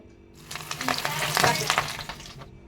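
Battered chicken legs sizzle in hot oil, giving a steady, close frying hiss that swells and crackles before easing off.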